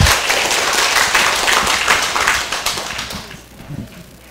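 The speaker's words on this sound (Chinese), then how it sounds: "请大家掌声欢迎" An indoor lecture audience applauds to welcome a speaker, a dense burst of clapping that stays loud and then thins and fades over its last second.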